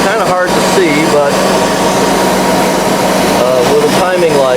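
A carbureted Mercruiser 5.0 V8 marine engine idles roughly in a steady, close drone, with someone talking over it throughout.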